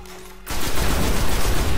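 Rapid rifle fire in the video game Destiny, a loud continuous burst of shots that starts abruptly after a short quiet moment and keeps going to the end.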